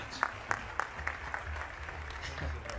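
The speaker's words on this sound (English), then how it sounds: "Just another applause for them." An audience at a trading business event applauds to welcome guests, with a few sharp, distinct claps standing out over a quieter scattered patter beneath a low background hum.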